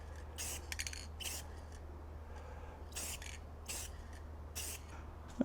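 A can of Rust-Oleum semi-gloss clear coat sprays onto a 3D-printed plastic ornament in about six short, quiet hissing bursts with gaps between them.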